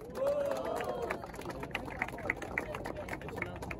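Battle rap crowd at a Brazilian street rap battle cheering and shouting for a rapper's rhymes, a dense steady roar of voices with scattered claps and whoops, with an emcee's voice rising over it at the start.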